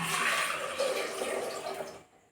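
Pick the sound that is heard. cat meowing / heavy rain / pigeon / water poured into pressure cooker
water poured into pressure cooker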